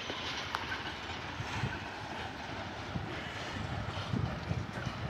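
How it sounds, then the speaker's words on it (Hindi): A goods train rolling along track beside freshly laid ballast, a steady rumbling drone with scattered wheel clicks and clanks, moderately distant and continuous, with no talking over it. "गुड्स ट्रेन चल दी है फिलहाल"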